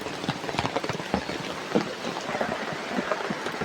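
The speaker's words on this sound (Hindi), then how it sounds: "बारिश भी आ रहा है बहुत ज़्यादा" Heavy rain falls outdoors in a steady, dense patter of drops striking surfaces close by, with a few sharper splashes and no voices.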